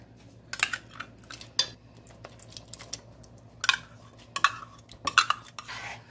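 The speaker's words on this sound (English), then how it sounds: "Then just stir them in and taste it" Green chili sauce being stirred with canned green chilies, a utensil clinking and scraping against the pot in irregular bursts, close and fairly loud with no talk.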